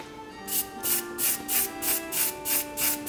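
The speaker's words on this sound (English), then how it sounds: "let me add a little bit more of that black spray" Short bursts of black aerosol spray paint hiss onto a fondant cake in a steady rhythm, about six quick sprays in a row, close and fairly quiet.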